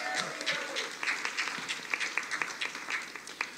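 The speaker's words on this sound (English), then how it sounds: "they deserve a round of applause" An audience at a panel on trip sitting gives a modest round of applause, a soft, scattered patter of clapping that stays fairly faint and distant throughout.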